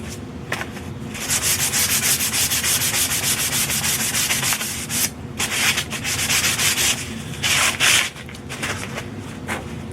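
Hand sanding of a finish on an old mirror frame, a steady close rasping scrub in quick back-and-forth strokes that runs almost continuously, with a few brief pauses between passes.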